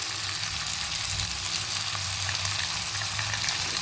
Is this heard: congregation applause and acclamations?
no